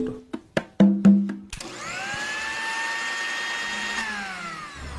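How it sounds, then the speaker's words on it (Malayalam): A kitchen mixer grinder switches on after a few sharp clicks, then runs as a steady, fairly loud whine with a rising pitch that holds for several seconds before it cuts off. "എന്തോ അടുക്കളയിൽ മിക്സി ഓണായി."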